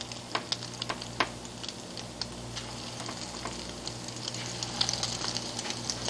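Parboiled broccoli florets frying in hot oil, a steady close sizzle with scattered small pops and crackles throughout, no talking.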